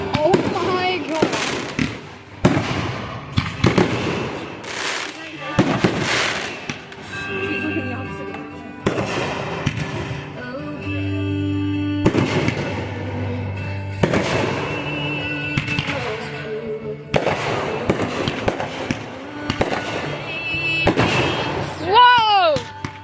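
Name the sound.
flashbangs exploding loudly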